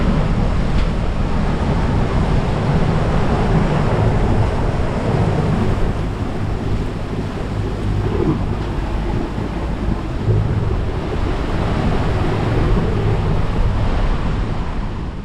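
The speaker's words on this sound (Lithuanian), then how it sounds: "kai susiduria srovė su vėju, gaunasi va tokia paklabiškė" Choppy sea waves breaking against a boat where a four-knot current runs into the wind off Tahanea atoll in French Polynesia, a steady loud wash of surf and wind noise throughout with no talk.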